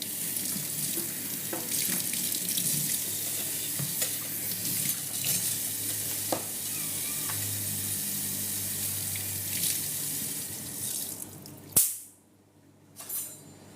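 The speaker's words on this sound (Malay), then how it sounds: "Saya basuh kejap." Tap water runs steadily into a kitchen sink while food is washed for laksa, a continuous close splashing stream that cuts off abruptly near the end, followed by a brief clunk.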